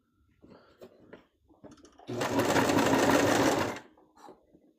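A sewing machine stitching fabric for a costume runs in a single steady whirring burst of about two seconds, close up, with faint handling clicks before and after.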